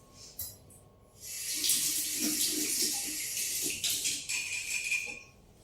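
Running tap water rinses a kitchen appliance attachment after washing with soap, a steady close gush from the faucet lasting several seconds with small splashing changes, no talk.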